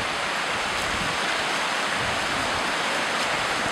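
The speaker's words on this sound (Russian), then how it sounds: "это и есть тот ручей Воеводин, о котором я вам говорил" Mountain stream Voevodin rushing along a hiking trail below Hostra in the Carpathians, a steady, dense broadband roar of flowing water, close and continuous with no voices.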